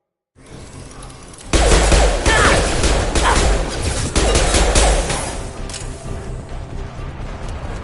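Heavy enemy gunfire erupts in Mass Effect 2, a loud, dense barrage of shots and impacts that starts abruptly and keeps up continuously before easing slightly toward the end.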